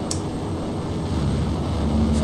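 Airplanes fly in DayZ on the Arma 2 engine, producing a loud, continuous engine drone with a steady low rumble and broadband roar that holds for the whole stretch.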